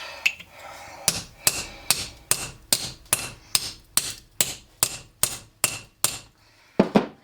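A hammer drives a chisel into a huge Washington conch shell in about a dozen sharp, evenly spaced metallic strikes, each ringing briefly, followed by a quick double hit after a short pause.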